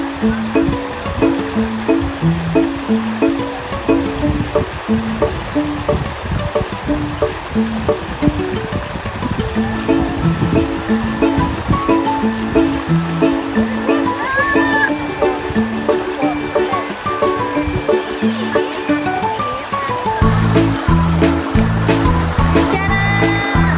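River water flowing steadily at a campground, a loud continuous rushing wash that fills the whole stretch, with music playing over it.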